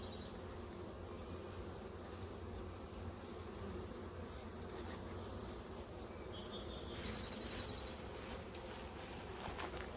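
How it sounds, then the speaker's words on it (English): Honeybees buzz steadily around a built-out hive frame heavy with pollen, a dense, continuous drone close by with no talk over it. "See, there's a bee outside, bottom, just crawling around the bottom, full pollen sacs."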